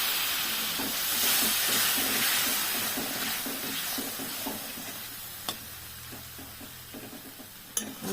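Eggs cooking in a pan with a splash of water, giving a steady close hiss and sizzle that runs throughout, with a few light clinks near the end.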